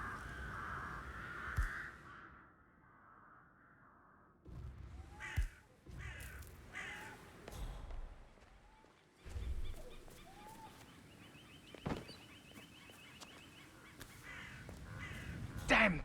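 Crows caw repeatedly in the distance around their nests, harsh calls scattered through the scene amid outdoor ambience. Quiet speech and occasional thuds run underneath.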